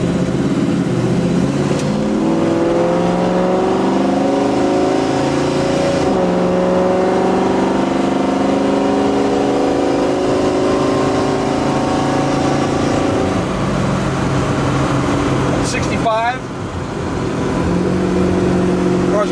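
A 1968 Chevrolet Camaro SS accelerating: a loud, close engine note climbs steadily in pitch as it pulls through the gears, holding a smooth drone for most of the stretch before easing off near the end.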